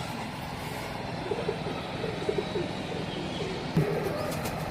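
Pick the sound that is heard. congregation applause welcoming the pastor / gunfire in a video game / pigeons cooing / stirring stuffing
pigeons cooing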